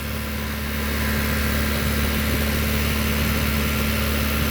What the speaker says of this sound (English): I have to have somebody hold the gas down because mine's electronical, so you can't make it sit at 2000 RPM